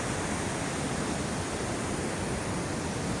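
Storm-driven sea waves from Typhoon Kristine surge close by on the shore, a loud, unbroken wash of surf and rushing water with no voices.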